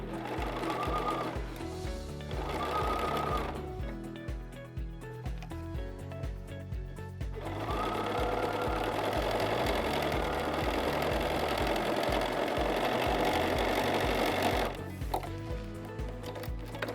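Sewing machine stitching mittens in steady bursts of rapid motor whir and needle clatter, close and continuous with short pauses between runs.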